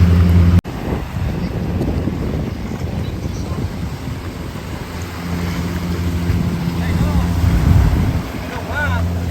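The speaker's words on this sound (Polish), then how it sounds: "Pan nas od razu zaprosił na łódkę i już płyniemy" A motorboat carries passengers off Railay Beach in Krabi, Thailand. A sharp knock opens the clip, then the engine drones steadily over wind and splashing water, with voices talking now and then.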